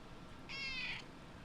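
A kitten gives one short, high, insistent meow, close by but fairly quiet against a low hum of room noise.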